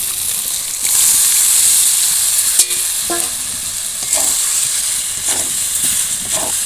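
Cauliflower soaked in a yogurt spice mix hits a hot pan and sizzles loudly and steadily, a bright hiss with a few scrapes and clinks of a utensil partway through.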